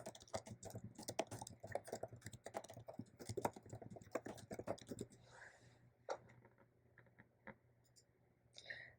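Rapid, irregular keystrokes on a computer keyboard while a message is typed, fairly faint and close, with a burst of dense typing that thins to a few scattered isolated key presses.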